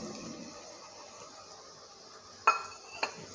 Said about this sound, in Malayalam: പൊടിയുടെ പച്ചമണം മാറുന്നത് വരെ ഒന്ന് ഇളക്കി കൊടുക്കാം